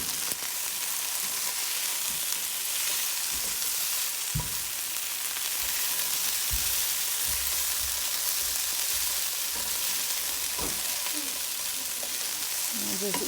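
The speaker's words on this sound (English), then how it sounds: "I'm going to give the potatoes a gentle stir, and you can see we're starting to get a little bit of browning." Hash brown potatoes fry in a pan with a steady, close sizzle, broken by occasional scraping knocks as they are gently stirred.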